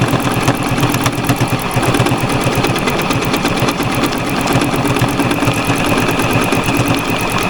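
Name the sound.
new sewing machine stitching fabric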